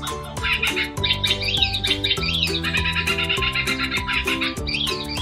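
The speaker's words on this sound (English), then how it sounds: "And we're hearing a kookaburra bird." A kookaburra calls in an Australian rainforest, a loud, continuous run of rapid, rising and falling chattering notes over layered bird calls and insect drone.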